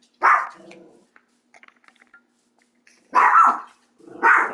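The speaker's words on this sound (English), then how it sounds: "My dog is not happy right now." A dog barks in two loud, close bursts separated by a quiet stretch with faint scattered sounds, the second burst a quick double bark.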